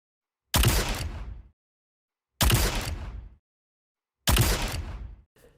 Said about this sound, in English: here's what Ace of Spades sounds like